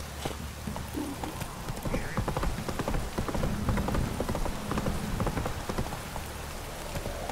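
Rain pours steadily in The Witcher 3 video game, a continuous hiss of drops on surfaces mixed with horse hooves clip-clopping along at a walking pace.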